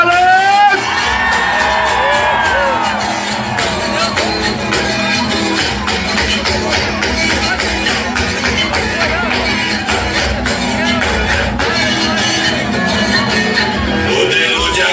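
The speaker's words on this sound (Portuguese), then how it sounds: "Cadê o grito da moçada?" Crowd at a São João bonfire festival in Paraná shouts, whoops and cheers loudly and continuously over band music, with scattered voices in the mix.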